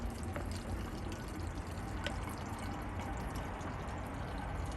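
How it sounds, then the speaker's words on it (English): Water gushes and trickles in a continuous stream as it is squeezed out of a soft CNOC Vesica water bottle, steady and fairly quiet with no voices. "as I start to squeeze the water into this, okay, the water is flowing out pretty well"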